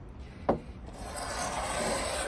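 Hand rasp filing the edge of a wooden door made from framing lumber, a close gritty scraping stroke with a brief sharp knock near the start, then one long coarse rasp.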